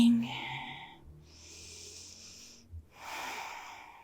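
Audible breathing during a heart- and hip-opening yoga flow, with slow, airy exhales and inhales in long drawn-out waves separated by brief pauses and a soft thump, heard close and quiet.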